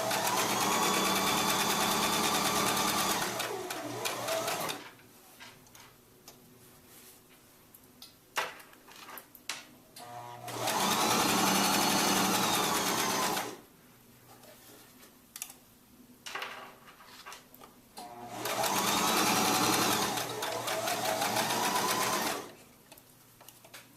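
A sewing machine stitches the fabric casing of a scrunchie in three long, loud, steady runs, each a few seconds, separated by quieter gaps of handling and small clicks.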